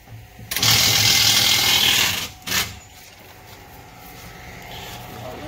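A 1-inch impact wrench rips lug nuts off a wheel in a loud, sustained burst lasting about a second and a half, followed by a shorter second burst, then a quieter workshop background.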